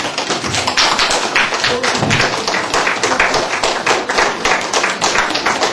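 Children and adults in an audience applauding at a celebration for displaced children, a loud, dense burst of continuous clapping that stays steady from start to finish.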